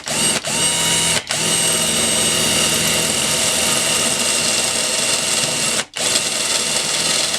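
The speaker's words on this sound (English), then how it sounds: "I'm now going for a bigger drill bit to get that hole a wee bit bigger." A power drill fitted with a larger bit bores a hole through a campervan roof, a loud steady whine that runs on with two brief pauses.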